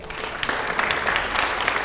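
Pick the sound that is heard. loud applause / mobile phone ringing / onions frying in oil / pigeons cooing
loud applause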